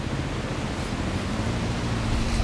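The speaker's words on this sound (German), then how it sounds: "Windig ist es." Steady gusty wind buffeting a microphone on a lakeshore during a fishing session, a continuous low rumbling roar that holds level and swells slightly at the end, with no voices.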